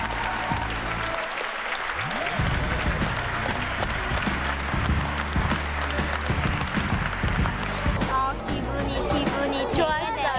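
A standing audience applauds at length after a children's performance, a loud, sustained crowd clapping that carries on throughout, with music tones and a few voices rising beneath and near the end.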